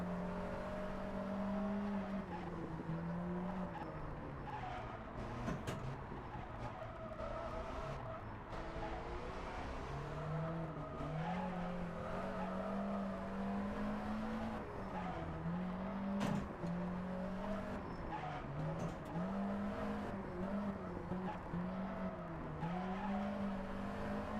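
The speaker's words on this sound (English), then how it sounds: "Ignore the squealing tyres, I had that totally under control" A rally car in the Richard Burns Rally simulator on the Circuit of Ireland '84 stages, engine droning and shifting pitch as tyres squeal in long wavering tones through corners, close and continuous with no talk.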